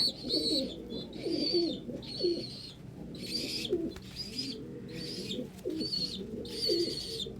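Pigeons or doves coo repeatedly at feeding time, soft low throaty calls overlapping with higher chirps and tweets in a steady, busy chorus, with occasional wing flutters.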